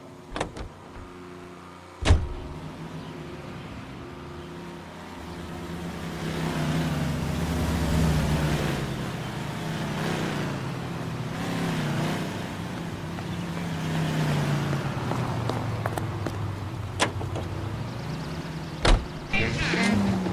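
A car driving in the L.A. Noire video game, a steady engine drone with shifting pitch as it moves, a door-like thump near the start and a few sharp clicks near the end.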